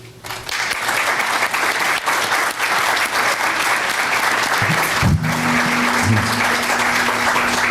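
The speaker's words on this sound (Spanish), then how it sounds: "con un muy afectuoso y caluroso aplauso" Warm, sustained applause from an audience at a parliamentary forum on oversight, a steady loud roar of many hands clapping with no break, a voice briefly surfacing near the end.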